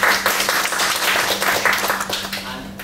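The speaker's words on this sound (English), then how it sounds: "Please, let's have a round of applause." Round of applause at a tech meetup, brisk clapping from a modest crowd heard close and fairly loud, tapering off toward the end, with a steady low hum underneath and some murmured voices.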